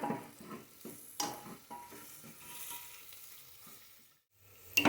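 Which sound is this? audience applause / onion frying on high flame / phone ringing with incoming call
onion frying on high flame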